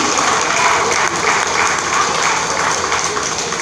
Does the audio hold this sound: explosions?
no